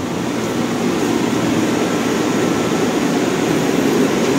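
Machinery runs in a submarine engine room with two engines, a loud, dense, continuous rumble and roar that stays even throughout with no voices over it.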